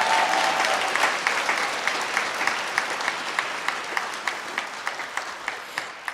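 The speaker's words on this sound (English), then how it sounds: "You know the sound of those claps?" An audience applauds at a stand-up comedy show. The clapping is dense and steady at first, then thins into slower, distinct claps as it fades.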